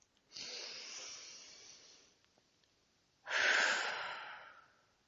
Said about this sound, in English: the next thing you do is take a breath